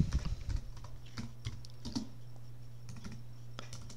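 Soft close keystrokes on a computer keyboard at an Ubuntu desktop while a command is entered, scattered taps over a low steady hum.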